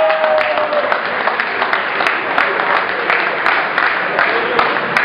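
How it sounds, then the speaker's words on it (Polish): Audience applause at a golf tournament awards ceremony, steady dense clapping from a gathered crowd filling the whole stretch, with a voice faintly under it at the start. "Brawa dla niego."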